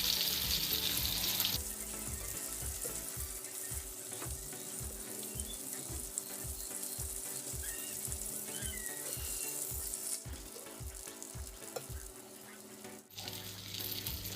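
Ayala mackerel coated in masala fries in a pan with a constant bright sizzle, under a run of regular soft thumps and clicks, before a brief pause and a renewed burst of frying.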